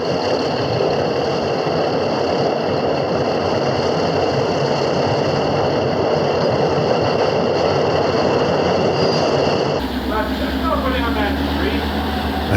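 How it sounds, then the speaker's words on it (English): A hump locomotive pulling back drones steadily with a loud, continuous diesel rumble, then the sound shifts abruptly near the end. "There's a hump engine pulling back."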